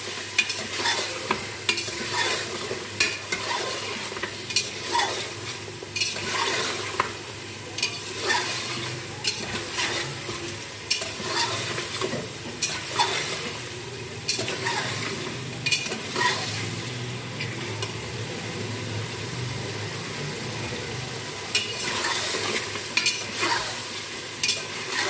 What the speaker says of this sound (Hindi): इसमें हम शामिल करेंगे किसी लाल मिर्च पाउडर, पिसा धनिया, हल्दी। हम इसको भूनेंगे 2 से 3 सेकंड तक।